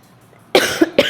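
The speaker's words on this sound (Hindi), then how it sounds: "थोड़ा सा खांसी आ रही है।" A person coughs twice, close and sharp, after a brief quiet moment.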